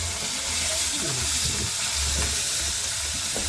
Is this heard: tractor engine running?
no